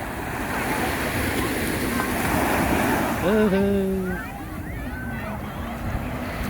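Sea waves washing onto a beach at Vũng Tàu, Vietnam, a steady roaring surf mixed with wind buffeting the microphone; a voice speaks briefly over it midway.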